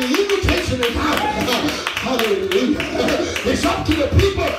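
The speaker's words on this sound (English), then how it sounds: "Clap your hand and give God praise." A congregation claps hands during a church worship service, a steady rhythmic patter of many hands heard under a loud voice that carries throughout.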